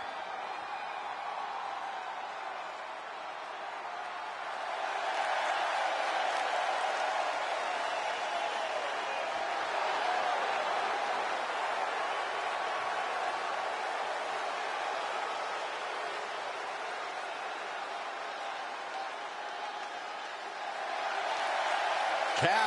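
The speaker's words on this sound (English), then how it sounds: "Listen to that crowd!" Arena crowd in the WWE 2K24 wrestling video game, a sustained loud wash of cheering and applause that swells after a few seconds, holds steady and rises again near the end.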